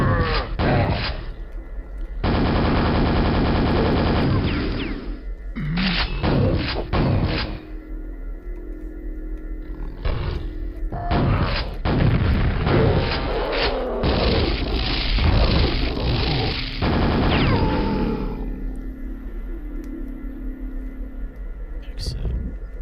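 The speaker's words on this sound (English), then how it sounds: "That spawn just exploded." Explosions and gunfire in the Quake video game, during a Brutalist Jam map, come as loud, dense booming blasts in long sustained bursts, separated by brief pauses and a few quieter stretches.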